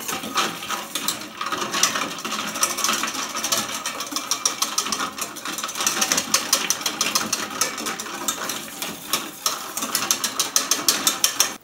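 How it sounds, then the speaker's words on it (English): A whisk beats chocolate mousse mixture hard in a bowl set over ice water, giving fast, rhythmic clattering and scraping strokes, close and continuous with no voices. "Put it into some ice water and whisk it really hard like before until everything stays foamy and gets kind of cool."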